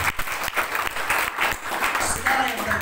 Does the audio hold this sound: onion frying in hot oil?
no